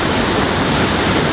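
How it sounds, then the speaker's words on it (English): Water rushes steadily into a canal lock, with the main fill coming up from the center and side sluices open, making a loud, unbroken broadband roar. "the primary fill is coming from the center"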